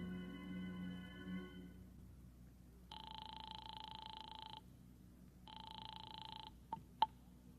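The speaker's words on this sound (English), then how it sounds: "I beat it to the nearest phone booth and called Howard Wilcox's home" Telephone ringing on the line during a call from a phone booth: two long electronic ring bursts separated by a pause, then a click and a brief clatter as the receiver is picked up, with a faint hum underneath.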